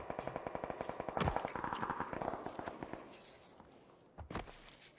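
AK rifle gunfire in a video game: a rapid, evenly spaced burst of automatic shots for about a second, then louder blasts and a pause before a final sharp volley, close and without talk.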